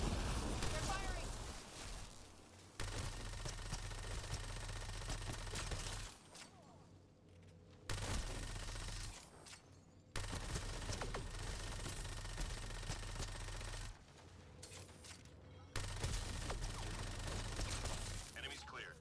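Weapon fire from the Mass Effect Andromeda multiplayer mode, a Human Sentinel in combat: loud, dense bursts of rapid shots come in several stretches broken by brief pauses, with game voices and battle noise mixed in.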